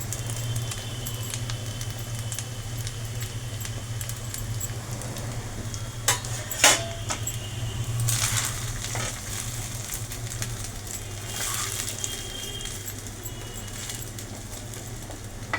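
Egg, boneless chicken and vegetables fry for mixed fried rice, a steady soft sizzle with a few sharp clinks of a utensil against the pan, no talking.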